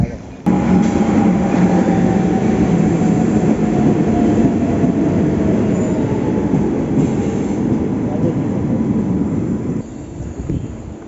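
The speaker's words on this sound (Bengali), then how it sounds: "তো গাইস ট্রেন এসছে দেখো।" A train pulls in and keeps running past, a loud, close rumble of wheels on rails with a sustained metallic squeal tone, easing slightly toward the end; voices are faintly present.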